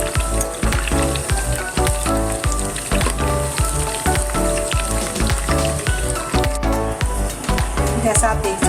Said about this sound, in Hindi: जैसा आप देख सकते हैं चिकन फ्राई हो गई है